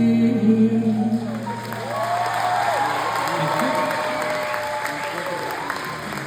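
Concert crowd in Toronto applauding and cheering, a loud continuous wash of clapping with whoops and voices rising through it.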